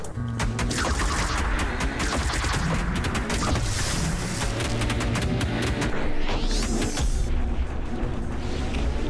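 Rapid, chaotic gunfire from a modded 'fun gun' in the game ULTRAKILL, a dense stream of loud shots and crashing impacts, then a rising sweep before it cuts off.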